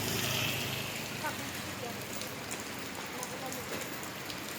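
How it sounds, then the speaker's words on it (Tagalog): Steady rain falls at a street vendor's stall in the afternoon, a soft, even hiss of drops on surfaces that is slightly stronger at first, with a faint voice in the background. "Naulan na eh."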